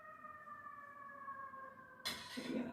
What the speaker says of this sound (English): I see fire engines outside.